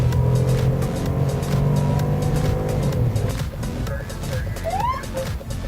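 Police patrol cars pull out to start a night patrol, their engines rumbling steadily and revving as they drive off, with voices intermittently over the motor noise.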